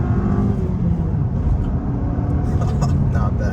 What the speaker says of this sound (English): On the gas, the second gear, you see a little bit of a fall off.